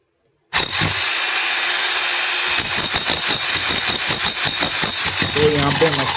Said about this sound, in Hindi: तो यहाँ पे मशीन सही से काम कर रहा है और अच्छे से हैमरिंग भी कर रहा है।